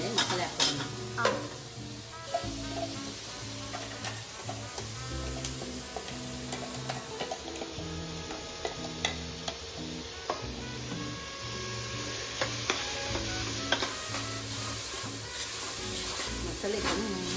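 Masala for mushroom biriyani frying in a pan on a home stove over medium flame, with busy stirring scrapes and clinks over a steady sizzle, set against a humming, tonal background.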